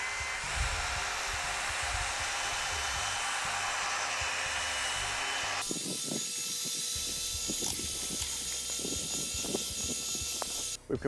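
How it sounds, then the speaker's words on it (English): A drill mixer churns asphalt sealer in a drum with a steady loud whirring and grinding drone that changes tone halfway through as the mixer moves up, continuous with no talk. "Start with your mixer at the very bottom of the drum, and as you feel comfortable with it, slowly start to move it up"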